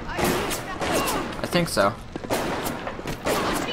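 An automated security turret in BioShock fires in rapid, repeated bursts of loud gunshots with heavy thuds, while a person speaks briefly over the shooting.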